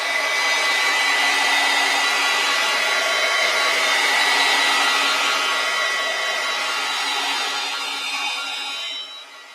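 A hair dryer blows steadily on a watercolor painting, a loud continuous whoosh and hum lasting several seconds with no talking, tapering slightly at the very end.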